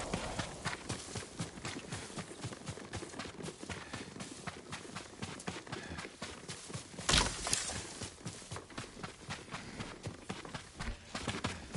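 Horse hooves clip-clop steadily on the ground in Ghost of Tsushima, a close, regular rhythm that runs throughout with a brief louder burst midway.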